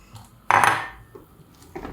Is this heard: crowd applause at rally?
no